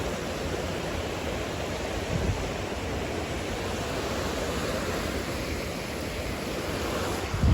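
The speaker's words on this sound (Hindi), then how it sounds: "उसके आगे से ये सारा पानी गुजर के जा रहा है" A mountain stream rushes past below a snowy peak, giving a steady, broadband roar of flowing water that stays loud and unbroken throughout, with no voices over it.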